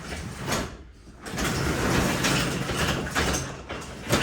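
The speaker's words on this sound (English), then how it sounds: "Now you see when I let go, the garage door wants to close." Garage door with a worn, near-broken spring sliding shut on its own once released, a loud continuous rolling rumble with a brief lull, then the rattle building again toward the end.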